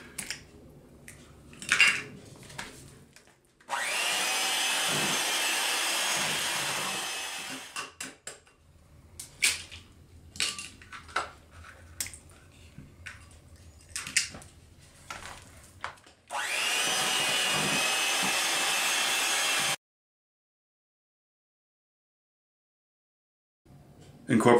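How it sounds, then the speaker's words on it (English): An electric mixer on low speed beating eggs into batter runs in two steady whirring bursts, separated by clinks and scrapes of a spatula against the bowl. "One by one, add the eggs, mix with low speed."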